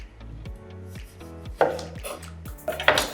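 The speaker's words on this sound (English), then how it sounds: "with my knife, I'm going to cut off the top of the orange and also the tail of the orange" A knife chops down through an orange onto a cutting board, several quick thuds and wet slices in a short close burst, with no talking.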